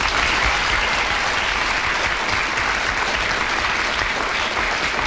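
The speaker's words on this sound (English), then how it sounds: "so I'm sure you want to applaud her for that." A radio studio audience claps steadily for a comedy panel game winner, a dense, even wash of applause lasting several seconds with no voices over it.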